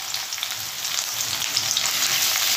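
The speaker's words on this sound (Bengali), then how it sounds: "পেঁয়াজটা একটু ভাজা ভাজা করে নেব, ব্রাউন করে।" Onion frying in hot oil with black cumin seeds for a tilapia fish curry with taro: a steady, bright sizzle close up, continuous and hissing, with faint stirring scrapes and no voices.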